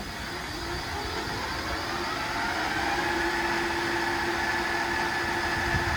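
A rebuilt Monarch 10EE precision toolmaker's lathe runs steadily at its selected speed, giving off a constant mechanical hum and whir with a faint tonal whine, close and unbroken, with no voices.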